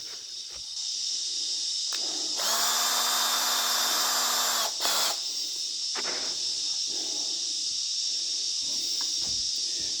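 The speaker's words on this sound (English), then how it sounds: "when I'm drilling this" A steady high-pitched whine of a power drill boring into a urethane boat skid runs almost continuously, rising in intensity midway, loud and close with no talking.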